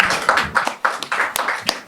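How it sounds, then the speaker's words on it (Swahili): A small group clapping hands in several uneven bursts of sharp claps, moderately close, with some voices mixed in. "nipigie basi makofi"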